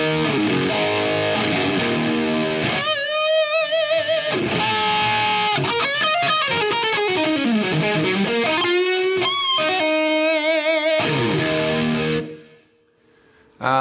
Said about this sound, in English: it sticks the Marshall on one side and the 5150 on the other side. So that sounds like this.